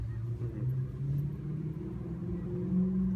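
A Cummins diesel engine swapped into a Saturn car rumbles steadily at idle through a dump exhaust with the stock exhaust left on, a deep, loud, continuous low drone that swells slightly near the end.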